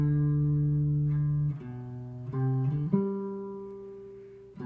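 A clean guitar plays a short riff alone, using a finger roll technique, with sustained notes that slide and roll between pitches, fairly quiet and close.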